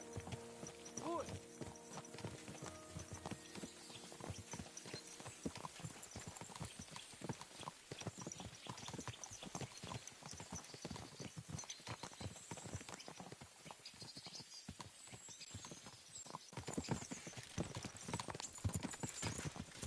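Horse hooves clip-clop at a steady walking pace over a busy outdoor background, with voices speaking intermittently.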